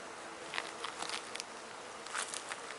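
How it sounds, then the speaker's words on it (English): Steady spring bee buzzing fills the background, with brief louder passes as individual bees fly close by, outdoors with no talking. "You can really tell it's spring when the bees are flying around like crazy."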